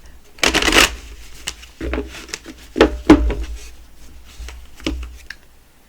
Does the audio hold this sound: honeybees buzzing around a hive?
no